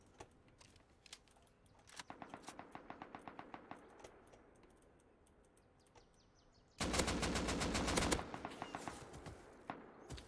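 AK rifle gunfire in the survival video game Rust: distant rhythmic bursts of rapid automatic shots, followed by a much louder, closer sustained volley, with quieter single shots scattered between.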